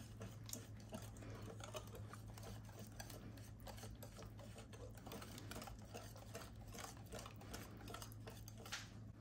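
Banana bread batter with coconut oil and egg being mixed, a fast even whirring of a hand mixer or whisk with soft ticking clicks against the bowl, continuous and faint, no talking.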